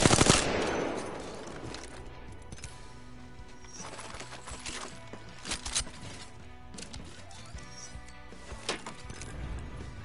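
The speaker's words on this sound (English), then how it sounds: "The enemies are shooting at me." Enemy gunfire in the battle royale game Apex Legends, rapid bursts of automatic shots with sharp cracks scattered over the stretch, some louder and nearer, others fainter, with no talk.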